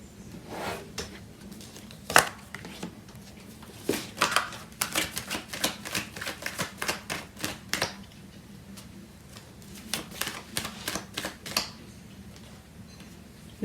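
Tarot cards are shuffled and drawn at a reading, making crisp, clicking flicks and taps in uneven clusters, quiet and close, with no voice over them.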